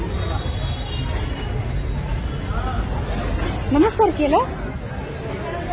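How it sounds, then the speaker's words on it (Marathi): A dense crowd murmurs in the background, a steady hubbub of many indistinct voices, with a nearby person speaking briefly over it. "बघ गर्दी, बघ किती गर्दी आहे."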